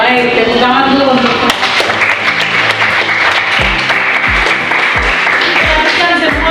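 A classroom of students claps briefly together, the clapping mixed with voices and background music and with several low thumps near the end.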